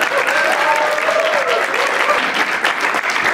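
Audience at a Japan Club mochi-tsuki rice-pounding event applauding and cheering for the pounder, a loud continuous wash of clapping with a few raised voices calling out over it.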